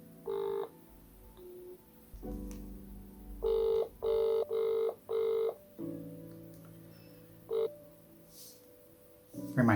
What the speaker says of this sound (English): No one's answering their phone.